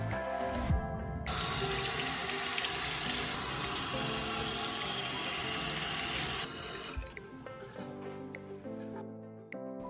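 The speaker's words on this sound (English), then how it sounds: "And now I'm just gonna go ahead and brush my teeth." A bathroom tap runs steadily and close while someone brushes their teeth, a loud hissing water stream for most of the stretch that then eases into quieter drips and splashes.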